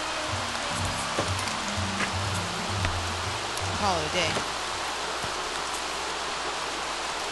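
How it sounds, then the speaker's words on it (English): Steady rain ambience from The Sims 3 hisses evenly throughout, with a voice talking briefly over it and some low game sounds early on. "I hope that rain is not so loud, because if it is, maybe I need to bring this down."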